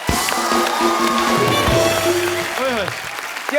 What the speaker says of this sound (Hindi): पापा जी के लिए जोरदार तालियां हो जाए।